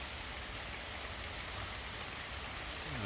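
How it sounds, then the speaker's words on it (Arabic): Heavy rain pours down steadily in a dense, even hiss of drops, close and loud with no break, and no one talks over it. "اسمع اسمع اسمع صوت المي وصوت لشته اللايق"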